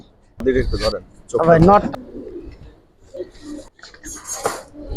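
Giribaz pigeons coo in a loft, several close, throaty calls in short bursts with quieter rustling between; a person talks faintly in the background.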